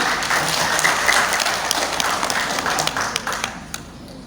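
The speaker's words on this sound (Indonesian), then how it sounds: "Tepuk tangan." Audience applause at a swearing-in ceremony for a Pekanbaru city organisation, a dense steady wash of many hands clapping that carries loudly throughout and thins toward the end.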